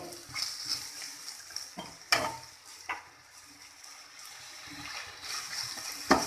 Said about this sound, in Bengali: এবার আমি পরিমাণ মতো তেল দিয়ে দিব